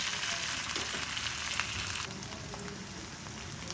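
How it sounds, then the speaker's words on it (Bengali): Eggplant fritters and potato chips deep frying in oil over medium-low heat, a loud dense crackling sizzle like heavy rain, steady and close with no voices. "এই যে এখন ভাজা হচ্ছে"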